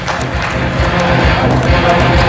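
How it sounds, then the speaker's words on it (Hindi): Crowd at a budgie show in Bhopal applauds to welcome a breeder, a broad, continuous wash of clapping and crowd noise, loud and close, with murmuring voices mixed in. "और इनका एक बार और तालियों से स्वागत करके आप इनका स्वागत करिए जावेद भाई का हमारे।"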